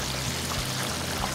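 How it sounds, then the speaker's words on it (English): Seafood for po'boys fries in hot grease, giving a dense, continuous sizzling hiss that stays loud and even with no talking. "Dropping in the hot grease again."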